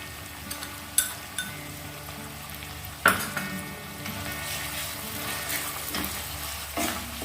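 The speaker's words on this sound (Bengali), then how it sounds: "সেজন্য একটু কমিয়ে কমিয়ে আমি পেঁয়াজটা টমেটোটা ভাজবো" Onion and tomato frying in a pan, a steady close sizzle broken by a few sharp clinks and scrapes of a spoon against the pan, with no voices.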